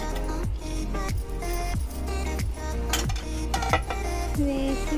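A spoon or ladle scrapes and knocks against a pot while sheer khurma is stirred and mixed. The regular strokes repeat in a steady rhythm up close, with no talk.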